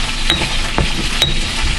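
Homemade curry powder spices, thyme among them, are mixed by hand, making a close, loud, continuous gritty stirring rustle with a couple of brief scrapes.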